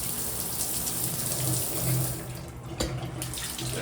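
Water runs steadily from a bathtub tap in a hotel bathroom at a La Quinta Inn, a continuous close splashing rush with a brief bump near the end.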